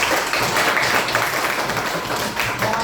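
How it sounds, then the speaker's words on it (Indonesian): A school class applauds together, a dense continuous wash of clapping that stays loud and close from start to finish. "tepuk tangan untuk kita semua"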